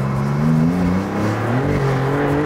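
Maserati MC20 Cielo engine revving, loud and close, with sweeping pitch rises and falls as the throttle is blipped, a throaty growl running throughout.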